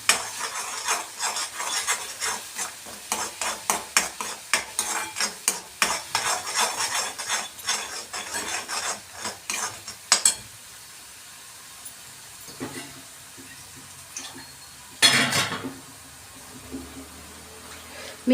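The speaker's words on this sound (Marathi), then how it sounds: "बघा छान हे वाटण असं परतवून घ्यायचं आहे" Ground masala paste being stirred and sautéed in a pan for paneer masala, with steady scraping and clinking of a spoon against metal over a soft sizzle, busy at first and then sparser with occasional sharp scrapes.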